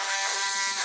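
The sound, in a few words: Dremel rotary tool running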